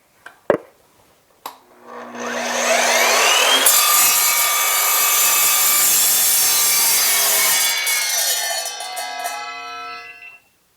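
An Evolution sliding miter saw cuts through mild steel box section: a couple of sharp knocks, the motor spinning up, then a loud, bright, ringing metal-cutting screech held steady for several seconds before winding down.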